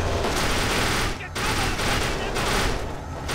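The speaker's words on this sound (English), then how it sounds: "they're shooting at me even though I'm like... totally in cover." Enemies firing at the player in the Kane & Lynch 2 shooter game, a dense, continuous fusillade of rapid gunfire with one brief lull, loud and close, with someone talking over it.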